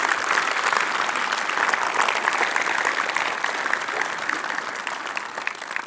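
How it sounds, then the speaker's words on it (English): An audience applauds steadily, a dense wash of clapping that holds at an even level and then gradually eases off. "I would love to give them a round of applause for helping them out"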